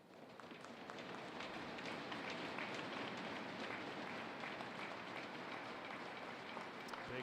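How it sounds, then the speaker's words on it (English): A large crowd at a women's soccer match between Canada and the USA applauding steadily, a dense wash of clapping that swells in after the first second and holds without a break. "Big round of applause."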